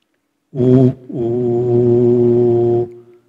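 A single voice sings a sustained "oo" vowel, a brief note followed by a short pause and then a longer steady tone lasting nearly two seconds.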